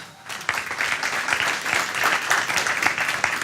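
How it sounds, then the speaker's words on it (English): A conference crowd breaks into applause for a speaker, a thick steady clatter of many hands clapping without pause. "another round of applause."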